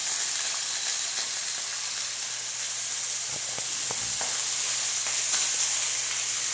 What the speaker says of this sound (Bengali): কড়াতে সাদা তেল নেওয়া হয়েছে, তেলের উপরে সব সবজিগুলো দেওয়া হলো, শিম, আলু, মূলো, বেগুন সব দিয়ে দেওয়া হলো